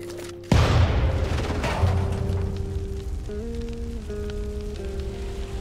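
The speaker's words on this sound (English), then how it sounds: "Heavens! It's an explosion!" An explosion in the video game Undawn bursts out suddenly and loudly after a quiet moment, then trails off into a long crackling, rumbling decay beneath steady tonal game music, with no talk.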